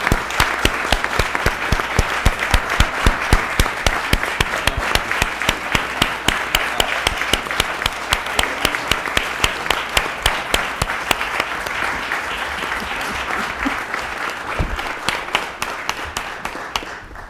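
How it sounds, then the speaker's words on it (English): Sustained applause from an audience at a Rochester city council meeting, steady dense clapping throughout at a loud, even level, easing slightly toward the end with no voices over it. "Let's give her a round of applause."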